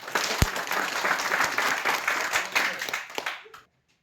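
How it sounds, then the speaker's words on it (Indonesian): A classroom full of students breaks into loud, dense applause that holds steady for about three seconds, then tapers off and stops abruptly into silence. "Tepuk tangan dulu untuk kita semua."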